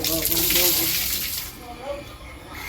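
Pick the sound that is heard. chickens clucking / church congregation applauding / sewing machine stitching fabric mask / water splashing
water splashing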